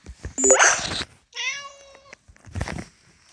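A baby marmalade cat meows in the video game PK XD, with three short, bright, close mews separated by brief silences.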